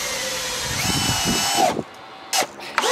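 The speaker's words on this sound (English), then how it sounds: "We're using long screws right now, by the way." Power drill whines steadily as it drives long screws into a wooden power rack, running for under two seconds before stopping, followed by two short bursts of drilling with quiet gaps.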